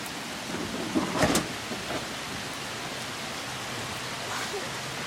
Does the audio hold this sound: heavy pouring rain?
yes